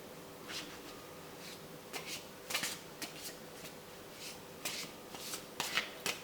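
A deck of tarot cards is shuffled by hand at close range: quiet, irregular bursts of papery riffling and flicking, alone with no talk.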